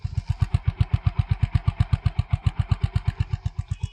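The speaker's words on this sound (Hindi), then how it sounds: "गाड़ी चलाने के पहले मैं चाहता हूँ कि आप इसका एग्जॉस्ट नोट सुन लें।" A Honda H'ness CB 350 motorcycle idles up close, its exhaust giving a loud, steady, rapid train of deep thumping pulses, roughly seven or eight per second, with no one talking over it.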